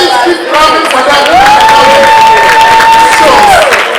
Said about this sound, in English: Please keep clapping for that.